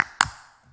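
A single sharp hand clap rings out in a church during a worship song, a crisp broadband snap that decays quickly, with a faint tone lingering just before it.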